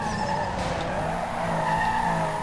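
Ford Model A tires skidding while drifting, a sustained squealing whine over a rumbling engine that runs steadily for a couple of seconds at close range.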